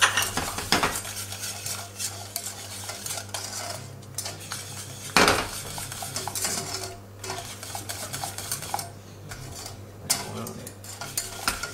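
Whisk stirring melted salted-butter caramel in a pan, close metallic scraping and clinking against the pan in an irregular rhythm over a low steady hum, with a few louder knocks.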